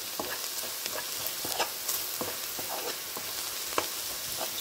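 Egg paratha frying in a pan until golden brown, a dense steady hiss of oil with irregular crackles and occasional scraping stirs, close and without voices.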